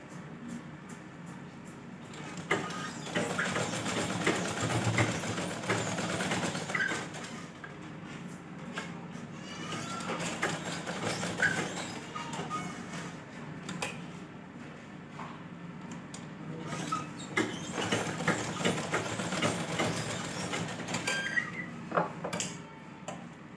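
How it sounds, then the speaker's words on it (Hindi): A sewing machine stitching the lining of a blouse: a steady, close mechanical rattle and whir running for a long stretch, with brief pauses and slight changes in pace, and no voices. "अस्तर अंदर की तरफ करके इस तरह से हमें इसके ऊपर वापस से सिलाई लेनी है।"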